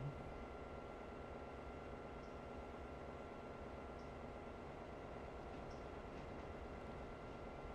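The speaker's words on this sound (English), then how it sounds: "Let's get this train moving." Continuous low rumble and hiss of a train moving in the Railroader video game, quiet and unchanging, with faint distant tones and no talk.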